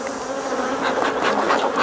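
A honey bee colony buzzes loudly and steadily during a hive inspection, a dense close-up hum of many insects that swells slightly toward the end.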